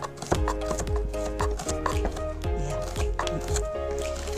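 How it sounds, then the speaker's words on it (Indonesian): Onions are chopped with a knife on a cutting board, with rapid irregular thuds running steadily throughout, close and fairly loud, while a home kitchen hum sits underneath. "kakak akan potong bawang"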